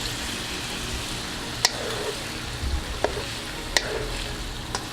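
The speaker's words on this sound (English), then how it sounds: "And I'm going to give this a stir" Peruvian pollo saltado with peppers stirred in a sizzling pan, a steady frying hiss broken by a few sharp clicks of the spoon against the pan, close up.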